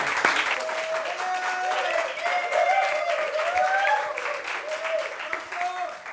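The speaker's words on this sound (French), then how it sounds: "Applaudissements pour Adama, s'il vous plaît, qui va nous quitter" An audience claps steadily throughout, a dense wash of applause with a voice carrying over it.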